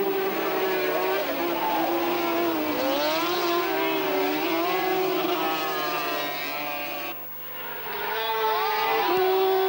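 Racing sidecar motorcycles at a 1988 FIM world championship roar past in a loud, continuous high-pitched engine whine that rises and falls as they pass, with a commentator talking over it.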